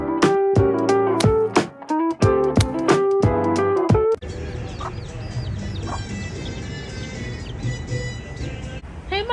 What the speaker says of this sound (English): I'm just feeding the little birdies